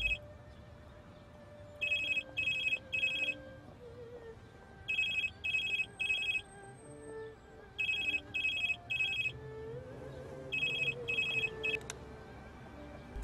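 A telephone rings in four bursts of repeated electronic trills, each made of several quick pulses with pauses between them, fairly close and clear over a quiet indoor background with no talking.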